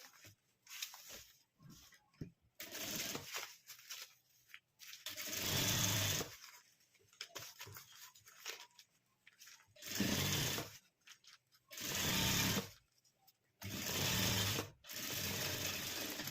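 Domestic sewing machine stitching a handmade purse cut from blouse fabric, loud bursts of rapid mechanical whirring several seconds long separated by pauses with quiet handling noise and brief low speech.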